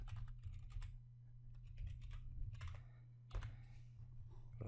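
Password being typed on a computer keyboard, a quick uneven run of close, crisp key clicks over a low steady hum, with no talk.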